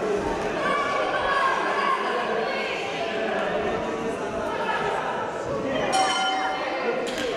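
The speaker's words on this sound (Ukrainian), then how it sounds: "І звучить гонг." A gong sounds to signal the round at a Ukrainian hopak hand-to-hand combat competition. Its bright ringing strike comes late in the clip over constant crowd chatter and a commentator's voice.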